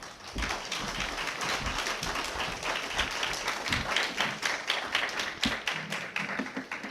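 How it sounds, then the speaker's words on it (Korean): A church congregation applauds to welcome the pastor, with dense sustained clapping from many hands that fills the room at a moderate level, the rhythm loose and continuous throughout. "우리 목사님을 환영하는 박수를 우리가 또 하면서 목사님을 모시도록 하겠습니다"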